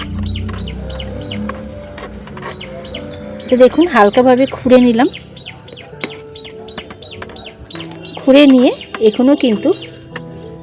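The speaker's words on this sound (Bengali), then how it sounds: "দেখুন কত সুন্দর পাখি ডাকছে" Small birds in a rooftop garden chirp in quick, repeated high calls throughout, fairly near. A voice comes in two short bursts of talk over them.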